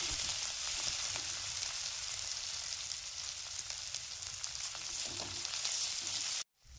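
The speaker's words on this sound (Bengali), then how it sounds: "রসুন দিয়ে দিলাম, আদা দিয়ে দিলাম, একটু ভেজে নেবো" Garlic and ginger fry in hot oil, a steady bright sizzle that crackles continuously at moderate level before cutting off abruptly near the end.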